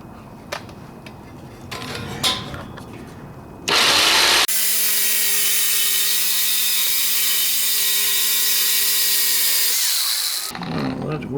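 A power cutting tool works on an exhaust header still bolted to the engine block of a 1968 AMC AMX with a 401 engine. After a few clanks, a loud, close, sustained whine runs for about six seconds, then stops.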